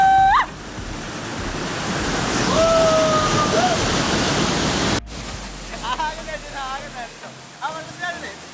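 Meenmutti waterfall in Wayanad roars as a loud, steady wash of rushing water for about five seconds. The sound then cuts to a quieter scene where people talk over a softer background.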